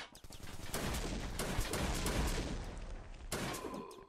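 Rapid bursts of explosions and gunfire from robot enemies in the pre-alpha shooter demo Corridors of Uncertainty, dense loud blasts packed together, then a brief pause and one more burst.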